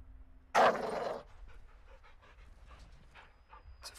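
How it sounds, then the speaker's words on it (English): A dog in the Call of Duty Modern Warfare II video game lets out one close, loud burst of panting, then a faint trail of quieter breaths and small sniffing sounds follows against near silence. "It's a fucking dog."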